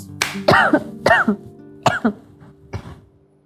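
Four or five close, harsh coughs in short bursts, with a softer one trailing at the end; no talking.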